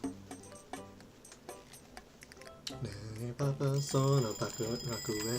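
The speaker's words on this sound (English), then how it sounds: "all the alarms, they're happening" Timer alarms in the Papa's Freezeria video game go off as a run of bright electronic beeps and warbling tones, stacking up over background music and growing louder toward the end.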